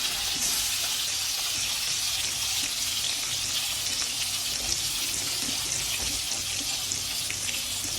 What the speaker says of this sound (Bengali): আমি একটু হালকা করে চিংড়ি মাছগুলো ভেজে নিব সবগুলো চিংড়ি মাছ দিয়ে দিলাম